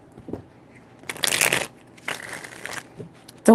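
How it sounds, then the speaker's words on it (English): Tarot cards riffled in two distinct shuffling bursts, close and crisp, with a brief pause between them and a soft thump at the very end. "3 shuffles."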